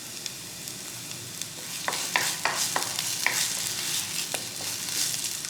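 Onion frying in oil for Brazilian moqueca fish stew, a steady close sizzle broken by repeated scraping stirs and small crackles, with no talking.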